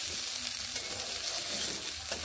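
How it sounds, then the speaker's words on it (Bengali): Sliced flat beans and potatoes frying in a pan give a dense, steady sizzle, close and continuous, with a little stirring. "এইভাবে ঢাকা দিয়ে দিয়েই আমি কিন্তু এই শিম আলুগুলোকে এইভাবে ভেজে নিচ্ছি।"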